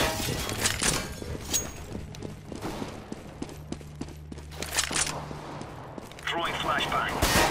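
Gunfire from a bigger gun in CS:GO, a run of sharp shots in quick succession amid other bangs and game noise, with footsteps-like clatter between.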